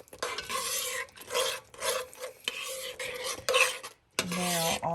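Thick gravy stirred with a utensil in a cast iron Dutch oven for pot roast, a close scraping, rasping swirl in repeated strokes with brief pauses and a short gap near the end.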